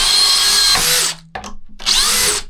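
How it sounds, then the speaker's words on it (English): A cordless drill drives into wood in two loud whirring bursts with a short pause between them, where the motor briefly slows. "Now, it wouldn't be right if I didn't show you what a good drill can do."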